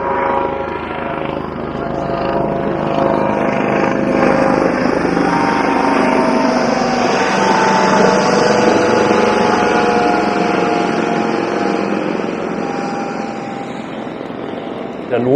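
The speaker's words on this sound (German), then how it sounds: "jetzt kommt wieder ein Hubschrauber oder was ist hier los?" Loud helicopter rotor and engine noise from an emergency medical helicopter roars steadily overhead near Cochem on the Moselle, holding strong for most of the stretch before easing slightly at the end.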